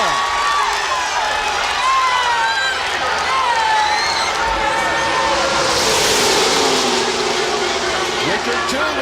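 A roaring NASCAR crowd of some 170,000 fans cheers steadily throughout, a loud, dense wash of noise under continuous commentator talk, with race cars faintly audible.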